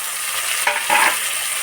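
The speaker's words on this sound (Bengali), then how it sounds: "পেঁয়াজটা ভাজা হয়ে এসছে, এবারে দেবো রসুনটা।" Onion frying in a pan with garlic just added, giving a steady close sizzle with a brief stirring scrape in the middle.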